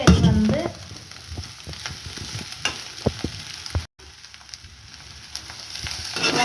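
Prawn masala being turned over in a pan, giving a soft steady sizzle with scattered scrapes and clicks from the stirring spoon, plus a brief louder clatter at the start and a short gap in the middle.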